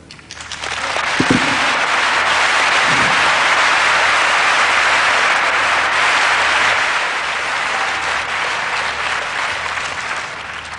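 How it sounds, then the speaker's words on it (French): Thunderous applause fills a large hall at a religious testimony gathering, a dense, loud, continuous roar of many hands clapping that swells quickly and holds steady without any speech over it. "Tous ces applaudissements"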